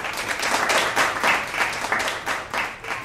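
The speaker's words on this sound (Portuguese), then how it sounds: "À minha direita aqui está o Vadinho, aplausos pra ele, pessoal." Steady applause from a talk show audience, a dense wash of clapping lasting the whole stretch without any voices.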